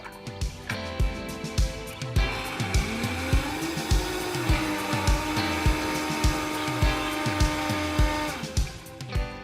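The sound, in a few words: blender blending vegetables with vegetable broth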